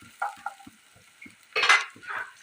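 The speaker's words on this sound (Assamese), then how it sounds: "অলপ এইদৰে ভাজি লৈছোঁ, ধুনীয়া এটা গোন্ধ ওলাই।" Ginger-garlic paste and finely chopped green chilli fry in a pan, heard as faint sizzling with scattered light scrapes and stirring taps, then a louder burst of hissing near the end.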